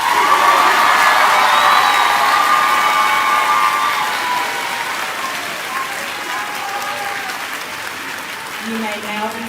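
A high school graduation crowd applauds the students with loud, sustained clapping and scattered cheers and whoops in a large hall, and voices sound under the applause.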